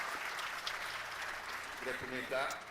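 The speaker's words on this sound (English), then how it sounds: "A round of applause" Audience at the opening of a sustainable-cities event gives a round of applause, a soft, distant, steady patter of clapping with some voices beneath it.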